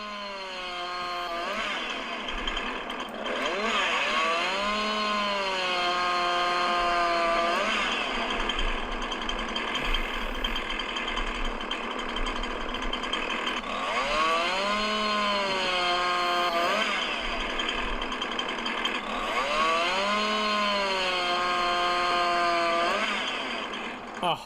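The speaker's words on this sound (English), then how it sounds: "Apologies if you can't hear me over the chainsaw." Chainsaw cutting wood in Farm Simulator 19, a loud steady engine drone with repeated rising revs as it bites into timber, dominating throughout with no talk.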